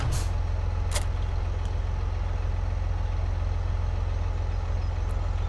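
A truck engine idles steadily in Farming Simulator 17, a constant low rumble with a couple of brief hissing bursts near the start and faint clicks later, no voices over it.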